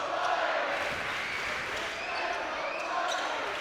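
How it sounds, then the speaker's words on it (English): A loud basketball game crowd roars steadily in an arena, a dense wash of cheering and noise that is heard alone. "Listen to this crowd."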